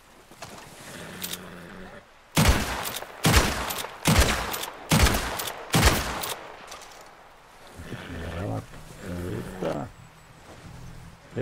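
Gunfire in the video game Red Dead, a rapid volley of loud shots in close succession, followed by quieter game ambience.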